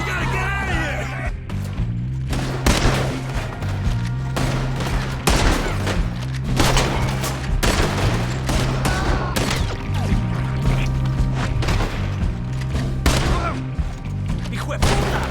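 Sustained gunfight in Red Dead Redemption 2, with dense, repeated gunshots and volleys cracking over a steady low music bed for the whole stretch, loud and close, with brief shouted voices near the start.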